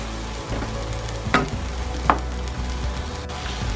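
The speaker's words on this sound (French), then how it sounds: "on peut augmenter le feu, comme avec un wok, faire revenir ça vivement" Bell peppers stir-fried hard over high heat in a pan, wok-style, a steady sizzle broken by a few sharp scrapes and clacks of the utensil, close and alone.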